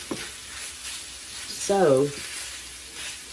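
Tortilla chips fry and sizzle in a pan for spicy nachos, a steady hiss close by while a voice briefly speaks over it.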